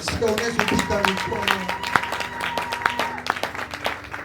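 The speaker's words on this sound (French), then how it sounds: "Est-ce que tu peux acclamer très fort?" A church congregation applauds and cheers loudly during a sermon, with dense, continuous clapping and crowd noise, sharp claps standing out throughout.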